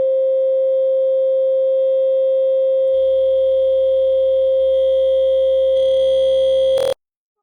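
A synth riser with a grainy texture produced by warping tones, held as a steady sustained tone that thickens with a low rumble partway through and swells to a bright burst before cutting off abruptly.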